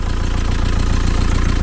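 A VW T3 camper engine with a turbo and a leaky injector idles with a slight lumpiness, a loud, close, steady low rumble with a faintly uneven pulse and no talk over it.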